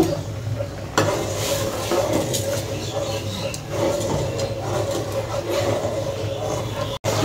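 Moong dal bubbles in a pot on the stove, a steady close simmer with soft clattering and stirring noises and a brief drop near the end.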